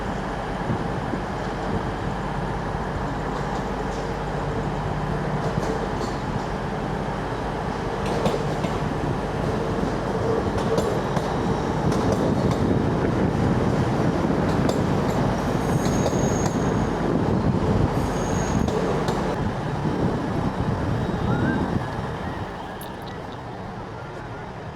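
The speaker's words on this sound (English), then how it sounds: "our LNER Azuma train will be pulling in very soon" An LNER Azuma train pulls into platform 2 at a station, a loud continuous rumble of rolling wheels with squealing and clicking rail noise that eases off near the end.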